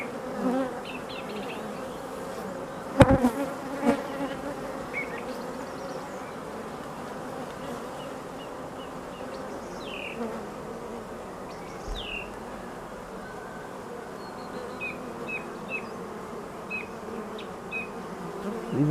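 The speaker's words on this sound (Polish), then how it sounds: "moja rójka jest w nastroju rojowym dalej" A dense, steady buzz of many honeybees swarming, close and continuous, with a brief knock and a few faint bird chirps in the background.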